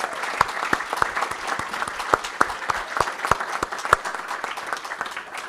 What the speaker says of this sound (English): So one more round of applause for all these fantastic students.